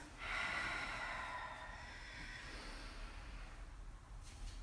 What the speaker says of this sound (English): Deep inhales, deep exhales out through your nose.